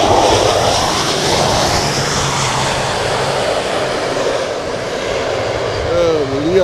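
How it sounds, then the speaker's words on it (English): A LIAT Dash 8 turboprop airliner makes a bumpy landing at Sint Maarten airport, a loud steady roar of engines and rushing air close by, with people talking under it. "Little bumpy landing."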